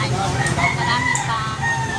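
Chickens cluck and a rooster crows amid a busy, noisy market in the Philippines, with voices murmuring in the background.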